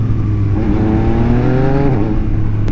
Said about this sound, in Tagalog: Tapos auto blip guys, syempre pag binitawan nyo yung silinyador, baba nyo lang yung gear nun man